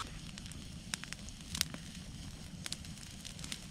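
Quiet, close crackling and popping of a campfire in the taiga, with sharp irregular snaps over a low steady rumble, no voices.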